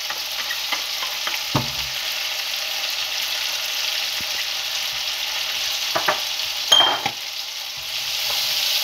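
Garlic fries in hot oil for kofta fried rice, a continuous bright sizzle with occasional scraping stirs and a louder clatter partway through, nearby and without speech.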